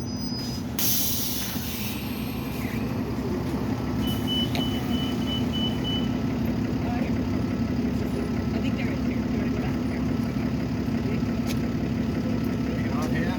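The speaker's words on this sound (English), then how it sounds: "This could be another bus right here. Yeah, Copley, Orange Line shuttle." An Orange Line shuttle bus pulls up at a Copley stop, its steady engine rumble and road noise rolling on throughout, with a brief hiss near the start and some faint chatter in the background.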